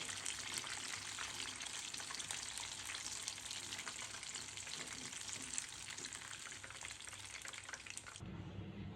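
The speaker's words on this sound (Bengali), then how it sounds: "চিকেনগুলোকে আমি একদম ক্রিস্পি করে এখন ভেজে নিব, দুই পাশে কালার আসা পর্যন্ত।" Chicken leg pieces deep fry in oil until crispy, giving a continuous close hiss and crackle that cuts off abruptly just before the end, with no talking.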